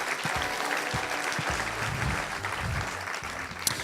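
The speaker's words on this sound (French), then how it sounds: "On l'applaudit très très fort." Sustained applause from an audience at an entrepreneurs' awards evening welcoming a laureate, a dense, steady wash of many hands clapping, loud and continuous with faint voices mixed in.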